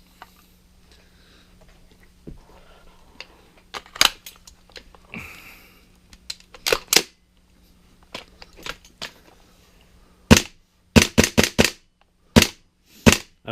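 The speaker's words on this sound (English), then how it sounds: "So here's just a test fire of my gun that I've made for gaming." WE MK18 MOD 0 airsoft gun test firing: sharp, snappy shots, first single and spaced apart, then a quick cluster of several rapid shots near the end, loud against a quiet background.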